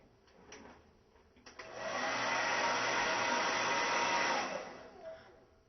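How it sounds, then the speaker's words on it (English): A hair dryer blow drying a lace wig, switching on after a moment of quiet handling, whooshing steadily and fairly close for a couple of seconds, then winding down to a softer hush. "So I'm just going to show you probably a 5-minute blow drying technique to start adding a little fullness in this."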